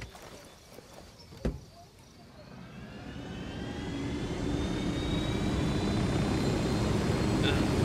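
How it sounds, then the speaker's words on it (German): Helicopter in the video game Ghost Recon Wildlands spools up from a quiet start, its rotor and engine roar building steadily and growing loud as it lifts off and flies, after a brief thump near the beginning. "Wenn der Helikopter aus der Lage noch starten will"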